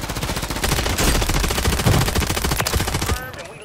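Rapid automatic gunfire in Call of Duty MW3 Warzone, loud and close, a dense continuous rattle of shots lasting about three seconds before cutting off abruptly.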